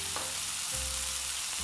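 Desi-style spice mix frying in a hot pan for restaurant-style mixed fried rice, a steady close sizzle with a brief stir partway through and no talk.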